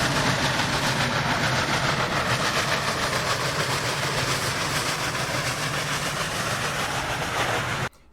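A train with diesel locomotives rolls past loudly and close, its continuous engine roar and wheel rumble steady throughout before cutting off abruptly at the end, with no voices.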